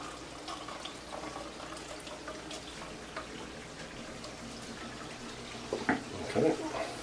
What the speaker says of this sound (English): I want to drain the water off of this so that when we end up finished with the meat, it's dry.